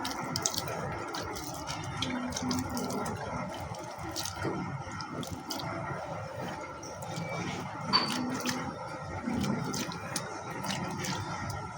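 Water pouring steadily onto a flowering plant, giving a continuous splashing trickle with small drips and a brief louder splash partway through.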